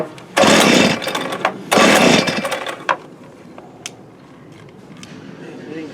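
A 1983 Toro TC 300 string trimmer engine is pulled over with two loud rough bursts of cranking that sputter briefly and die, leaving faint clicks and rustling nearby.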